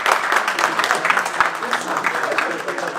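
An audience applauds at the CAN de Sarcelles 2021 community event, with dense, steady clapping throughout and a voice speaking over it.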